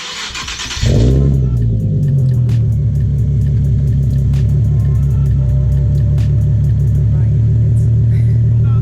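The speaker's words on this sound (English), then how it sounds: "The exhaust actually sounds really loud, especially inside." A 2016 Nissan 370Z engine fires up and settles into a loud, deep, steady burbling idle through a Greddy Evolution GT cat-back dual exhaust, heard from close by.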